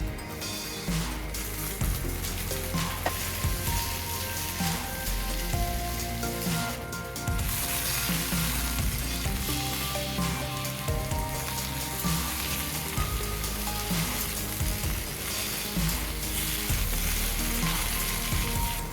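Potatoes frying in hot oil with bitter gourd and spices, a dense continuous sizzle close up with stirring scrapes, loud and steady with a brief dip partway through, no voices.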